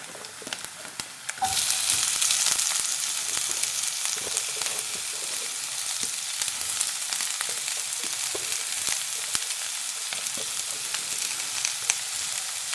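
Chopped onions hit hot oil for a crab masala, bursting into a loud, dense sizzle that holds steady throughout, with small crackles and occasional stirring clicks.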